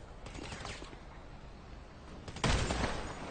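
Gunfire in GTA V: a sustained crackle of automatic shots runs through the clip, then a louder, denser burst of fire hits near the end.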